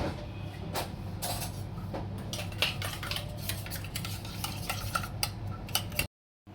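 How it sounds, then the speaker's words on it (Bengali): A spoon stirs grated malai in a small bowl, scraping and clinking steadily against the sides with a faint low hum in the background, close and alone without talk. "চামচ দিয়ে একটু ঘেটে নে।"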